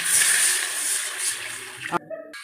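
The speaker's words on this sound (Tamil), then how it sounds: "இது மூழ்கிற அளவு தண்ணி ஊற்றிக்கலாம்." Water poured steadily into a pan of salted raw potatoes for a potato fry, a loud continuous splashing gush that stops abruptly near the end, followed by a few small clinks.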